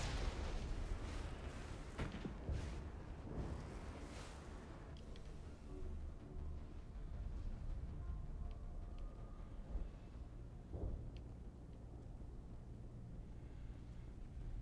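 Mass Effect gunfire: bursts of rapid shots and booming impacts in the first few seconds, then quieter rumbling battle noise with occasional isolated shots.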